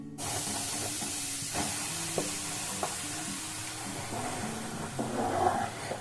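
Gram flour (besan) tipped into melted oil and ghee in a pan for festival laddoos, giving a steady close sizzle and hiss with scraping stirs and a few light clicks throughout.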